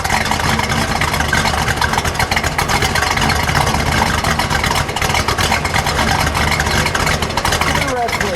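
A 1973 Buick Century Gran Sport Stage 1 with its 455 engine idles steadily and loud and close, a continuous rumble running throughout, with talk heard over it.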